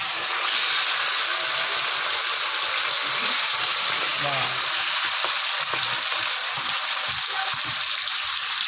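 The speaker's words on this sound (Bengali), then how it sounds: "এখন কড়াইয়ে মুরগিটা দিয়ে দিলাম।" Chicken pieces frying in hot oil in a wok, a steady close sizzle with faint stirring and clinks throughout, no voices.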